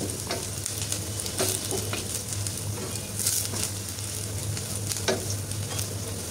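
Vegetables sizzling steadily in hot oil after a bagar tempering for a chana dal vegetable ghonto, a continuous close crackle with occasional stirring scrapes and no voices.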